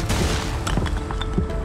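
A mortar in the video game Foxhole fires amid a dense wartime soundscape, with a heavy boom and rumbling echoes layered over steady background battle noise.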